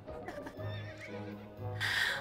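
A horse in the video game To The Moon neighs and whinnies across two seconds, close and fairly loud, with a bright breathy burst at the end and a faint hint of hooves, no voices over it.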